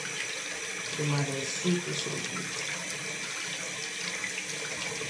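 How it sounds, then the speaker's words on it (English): Running water from a tap pours steadily over dreadlocks as they are wetted and washed, a close and constant hiss and splash, with a few words spoken briefly over it. "I'll make sure I get my hair wet a little bit. And then I really soak this one up."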